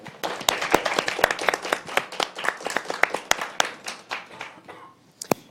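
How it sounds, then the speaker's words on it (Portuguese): Audience applause at a university journalism event, a moderately dense round of clapping with distinct sharp hand claps standing out, thinning and dying away toward the end. "Mais uma salva de palmas, por favor."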